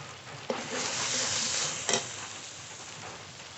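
Ground spices with turmeric and salt for a rural-style sea crab curry sizzle in oil while a utensil scrapes and stirs them in a pan, with a steady hiss and two sharp metallic knocks.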